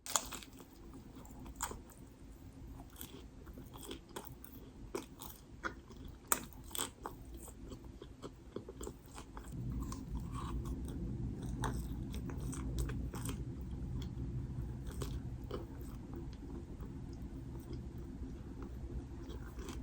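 Crusty ciabatta bread being bitten and chewed up close, with a run of sharp crunchy bites through the first half giving way to steadier, denser chewing and crunching; no talking.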